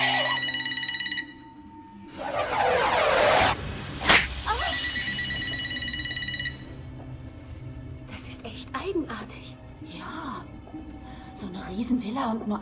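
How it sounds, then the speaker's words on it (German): A telephone rings in a German-dubbed Scary Movie 3 trailer, with a short run of bright, repeating electronic ring tones at the start. Voices, gasps and movie effects follow, with people speaking throughout. "Nur ein Telefon."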